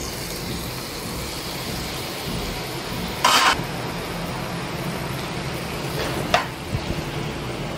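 Boondi batter dropped into hot oil for boondi laddu, a constant broad sizzle of frying with a couple of sharp clinks from the pan partway through, close and steady.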